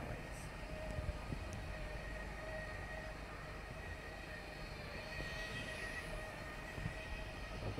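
A model train, a Class 90 locomotive hauling Mk3 and Mk2 coaches, rolls steadily around its track circuit with a continuous low rumble and faint clicking, a constant mechanical whir running throughout.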